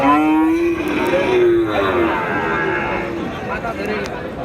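Cattle at a Friday cattle and calf market in Chowbaria, Naogaon, bellowing in a long, loud, drawn-out moo that falls and fades against a busy market background.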